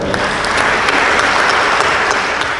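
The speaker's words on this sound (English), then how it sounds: "Give yourselves another round of applause." Dense, continuous applause from a crowd at a gathering, a steady roar of many hands clapping close and loud with no let-up through the whole moment.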